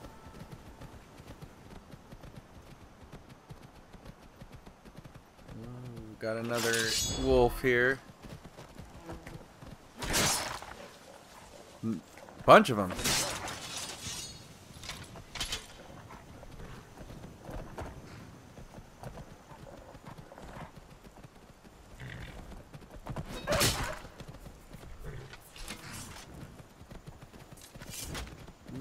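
Horse hooves clip-clop in the video game Skyrim, coming in uneven bursts of moderate loudness under occasional male speech.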